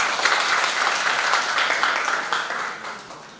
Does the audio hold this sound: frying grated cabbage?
no